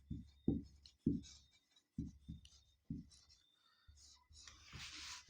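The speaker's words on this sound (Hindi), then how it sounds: "इसको मैं यहाँ पर लिख रहा हूँ" Chalk or marker writing on a board during a chemistry lesson, a series of short scratchy strokes in quick clusters separated by brief pauses, close and clear.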